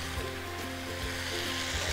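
Garlic chicken frying in a pan gives a steady, soft sizzle that continues without a break and with no voices over it.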